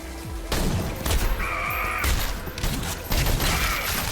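Gunfire in the retro first-person shooter Selaco, loud close bursts of rapid shots with booming impacts, coming in separate volleys with brief pauses between them.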